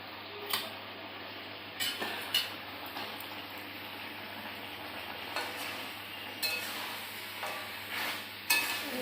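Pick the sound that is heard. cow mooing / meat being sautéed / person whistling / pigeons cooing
meat being sautéed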